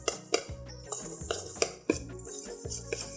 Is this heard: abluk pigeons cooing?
no